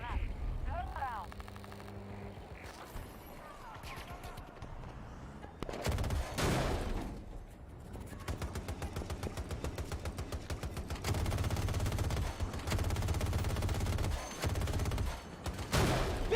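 Sustained automatic gunfire rattles against a vehicle in Battlefield 2042, long dense bursts with engine drone underneath and brief pauses between volleys, voices talking at times.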